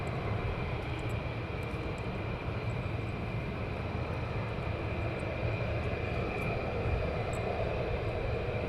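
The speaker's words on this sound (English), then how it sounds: "Dicky A330 heading towards area 8. So that'd be the Voyager out of Bryce Norton." An Airbus A330 Voyager military tanker-transport passes near an RAF airbase, its jet engines giving a loud, steady broadband roar that holds evenly throughout without any talk.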